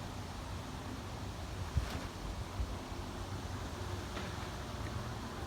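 High winds gust steadily outdoors around a backyard trampoline, a continuous broad rush with faint bumps and no voices.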